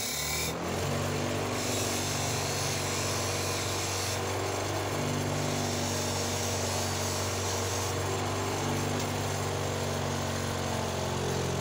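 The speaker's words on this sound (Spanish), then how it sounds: "Voy a preparar un destornillador, lo voy a hacer un poquito en ángulo" Steady mechanical hum with a low drone and faint rubbing scrapes, consistent with a screwdriver held at an angle loosening a screw on an Elgin Genius sewing machine, close by with no talking.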